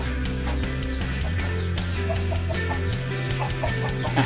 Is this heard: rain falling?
no